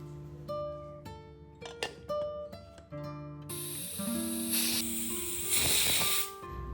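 A pressure cooker holding soaked kabuli chickpeas with salt and water lets off a loud, steady steam hiss partway through, which swells and surges for about three seconds over continuing melodic background music, with no talking.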